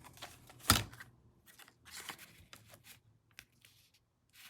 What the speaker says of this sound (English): let's cut a straight line